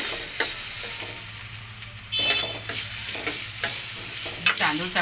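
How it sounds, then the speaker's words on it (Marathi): Rice being stirred and roasted in ghee in a pan, with repeated scraping strokes and a steady low sizzle throughout, louder in the second half, with no speech. "आपण हे तांदूळ आहेत ना ते परतूया. थोडं अजून 1 चमचा तूप घालूया."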